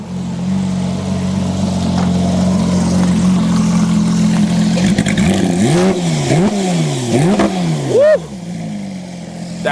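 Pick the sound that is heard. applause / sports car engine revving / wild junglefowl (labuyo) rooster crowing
sports car engine revving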